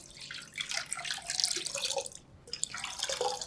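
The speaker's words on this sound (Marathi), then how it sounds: "आता पुन्हा यामध्ये भरपूर पाणी घालायचं" Water is poured and splashes onto semolina left soaking for pappad batter, a continuous bright trickling and splashing close by, briefly easing midway before pouring again.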